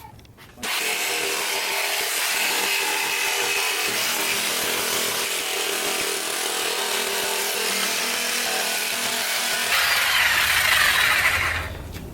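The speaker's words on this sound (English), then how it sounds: "Yeah, just sanding it" A power sander grinds loudly and steadily against aluminum diamond plate on an RV for about ten seconds, its pitch shifting slightly near the end before it winds down.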